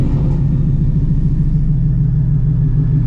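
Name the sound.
Shelby GT350 engine while driving with twin disc clutch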